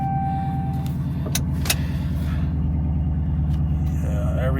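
A Chrysler 300 Scat Pack engine idles and rumbles steadily up close as the car is driven into a shop, with a couple of brief clicks and a faint whine, no voices.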